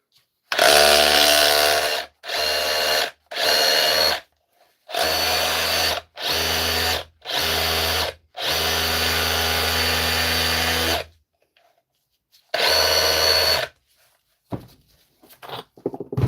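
A DeWalt power drill in drill mode runs in a series of loud whirring bursts of varying length, including one long sustained run, separated by short silences, close up with no talking.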